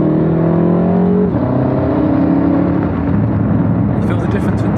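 Tuned BMW F10 M5, a 750 bhp stage 2 build, pulls hard through the gears with a loud, steady engine roar and a brief dip at a shift, voices talking over it throughout.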